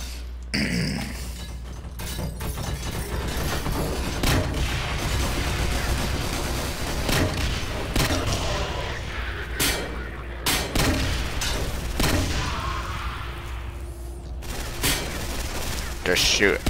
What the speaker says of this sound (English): Just shoot everything I see.